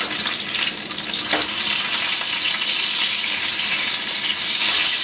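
Burgers sizzle in a hot pan, a dense, steady crackling hiss that fills the whole stretch with no speech over it.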